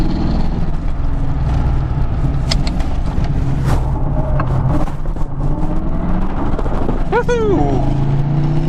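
A Ford Foxbody Mustang drives hard with a loud, steady engine roar and road rumble close to the microphone, a tire squeal near the end, with a person's voice mixed in.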